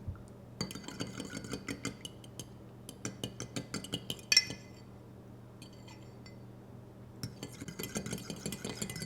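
Butter and a room-temperature egg being mixed in a bowl for Lady Grey einkorn scones, a quick run of close clinks and scrapes from a utensil against the bowl, with a brief pause midway before the mixing picks up again.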